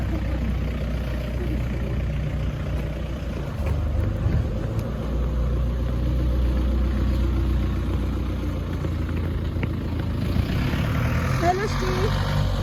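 A car approaching along a street in Telavi, Georgia, its steady low engine rumble and road noise rising gradually over about thirteen seconds while people talk nearby.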